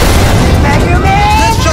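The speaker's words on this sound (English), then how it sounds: "This just came in. It's an explosion." A loud, dense blast rumble fills the whole stretch with heavy low-end roar and noise, while a voice runs over it.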